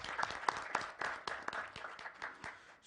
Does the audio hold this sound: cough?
no